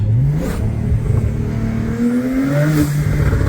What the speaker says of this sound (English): look at that monster truck